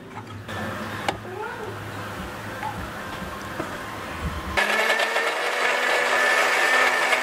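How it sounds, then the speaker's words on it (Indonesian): A blender grinding chilies, shallots, garlic and candlenuts whirs loudly and steadily, switching on partway through after a quieter stretch of kitchen background noise. "Cabai, bawang merah, bawang putih, sama kemirinya aku blender."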